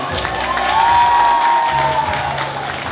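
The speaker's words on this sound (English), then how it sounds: "give them a round of applause" Wedding guests applaud the newly married couple, a steady, loud wash of clapping and some cheering that fills the whole room from start to finish, with music and voices faintly underneath.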